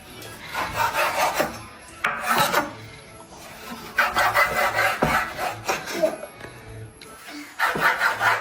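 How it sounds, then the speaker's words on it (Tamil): Cleaned cuttlefish is cut for a curry, giving repeated close scraping, rasping cuts in bursts of a second or so with short pauses between them, loud and steady over a faint background hum. "கணவாய் பாருங்கோ, வெட்டுறத பாருங்க."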